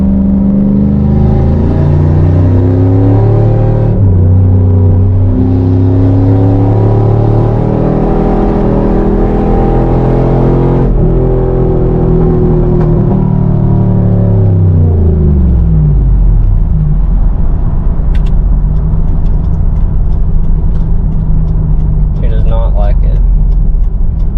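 A car engine revs in third gear with a transmission fault, a loud steady drone that rises and falls in pitch, then sinks low before easing into a quieter idle-like hum.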